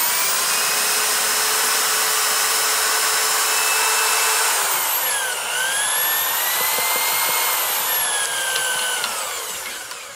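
A power drill driving a General Pipe Cleaners PD-25 Auto Handy drain cleaner whirs steadily and loudly in reverse, its pitch shifting partway through as the motor changes speed, with the drain cleaning cable rattling underneath as it retracts.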